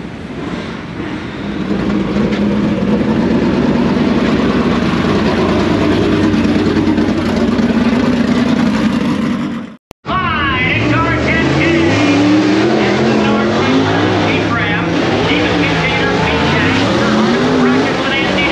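A drag race car at the Highland Summer Nationals rolls out for qualifying, its engine a loud, rough, sustained drone that cuts out for a split second, then returns with shifting revving tones.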